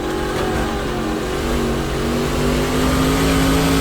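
A stock car engine in the NASCAR Racing 2003 sim drones loudly and steadily with a rising harmonic whine throughout, the revs shifting as it works down through the gears.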